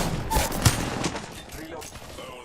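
Gunfire rattles in an Apex Legends match, a fast burst of shots under game voice lines and background action.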